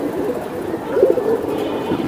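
Silver giribaz pigeons call with a short, wavering coo in the middle, close and moderately loud over a steady murmur of background noise.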